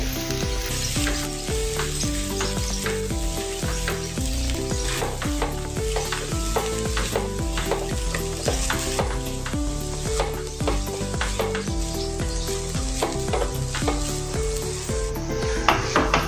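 Boiled cauliflower sizzles and fries in a pan for a Gobi korma, with steady crackling and the scrape of stirring throughout, loud and close with no talk.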